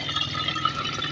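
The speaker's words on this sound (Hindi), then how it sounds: "पानी डालो।" Water pours from a vessel in a short, steady stream with a soft, close splashing fill and no pause.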